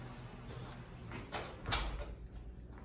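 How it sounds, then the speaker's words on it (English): A closet door under the stairs swinging shut, with a soft slide and two brief knocking thumps as it closes, heard alone in a quiet room. "Go ahead and close this door."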